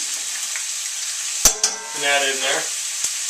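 Leftover garlic dropped into a hot pan for fajitas gives a steady, close sizzle that runs the whole time, with a short thump as it goes in and a voice speaking briefly over it.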